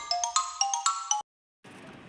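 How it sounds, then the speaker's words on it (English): A xylophone struck with sticks plays a quick run of short, bright notes, about eight evenly spaced strikes, clear and close, then stops abruptly before a softer background sound. "X for xylophone. Phone with sticks. The notes are short and quick."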